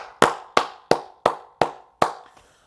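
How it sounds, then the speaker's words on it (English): Six sharp, evenly spaced handclaps ring out close and loud in a slow, steady rhythm, with no voices around them, marking a round of applause during a football team review. "Round of applause."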